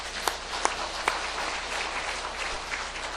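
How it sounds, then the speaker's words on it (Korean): Church congregation applauding in encouragement during a year-end service, a steady wash of clapping with a few sharper claps standing out early, moderately loud and close. "기왕이면 한번 격려의 박수해서"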